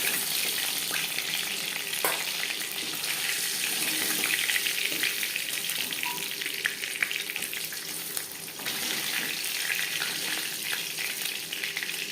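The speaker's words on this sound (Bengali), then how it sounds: "প্রথম ব্যাচে মাছ ভাজা হয়ে গেছে" Pieces of shol (snakehead) fish fry in a pan, a dense, continuous crackling sizzle that stays close and steady, broken by occasional light stirring clinks.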